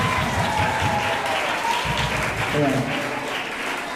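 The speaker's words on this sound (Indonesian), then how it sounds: "Aplaus untuk semuanya." Audience applause at a school competition, steady dense clapping that carries on for several seconds while someone speaks over it.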